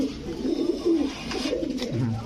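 A pigeon coos close by, a few low rolling throaty calls in a row, fairly loud and clear with little else around.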